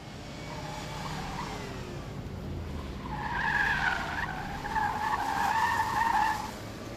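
Tires squeal in long wavering screeches as cars skid through a police inspectors' slalom driving competition, over a steady rumble of engines and outdoor noise, the squeals swelling louder toward the end.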